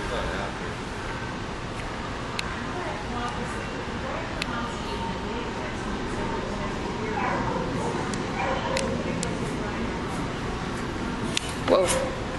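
A small dog whimpers, yips and barks in short bursts while its nails are clipped, up close, with people talking throughout and a sharper yelp near the end.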